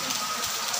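Heavy rain pours down steadily as a dense, even hiss of drops on tiled surfaces outdoors, with no voices over it.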